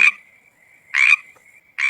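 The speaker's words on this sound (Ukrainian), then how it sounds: "квакання жаби." A frog croaks in three short, loud bursts spaced apart, with a faint thin trill lingering between them.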